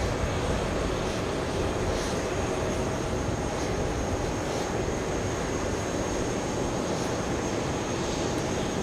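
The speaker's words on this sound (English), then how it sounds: "We have JetBlue pushing back." A JetBlue jet airliner pushes back from the gate at JFK Airport, its engines and ground equipment producing a continuous, even broadband roar with a faint high whine, steady throughout with no talking.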